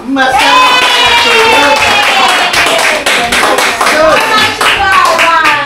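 A group of people clapping together in steady, loud rhythm close by, with excited voices and shouting over the claps throughout.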